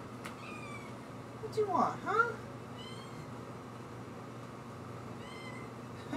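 A house cat meows a few times close by, short rising cries in the middle of the clip over a steady low hum, with a person speaking briefly to it.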